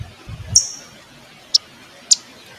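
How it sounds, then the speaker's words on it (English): Sharp, high chip calls of common eastern warblers, three separate short notes spaced about a second apart against a quiet background, with a few soft low thumps at the start. "Most warblers' calls sound like some variation on a chip"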